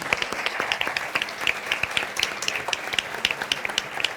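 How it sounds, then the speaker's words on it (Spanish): An audience applauds the comedian Leo Bassi at a live humor show, a steady dense clapping from a crowd lasting the whole stretch with sharp individual claps standing out. "Pediría un aplauso para el maestro Leo Bassi."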